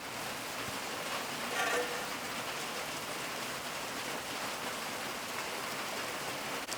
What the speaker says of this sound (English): It wouldn't be an official camping trip if it didn't start raining at least once.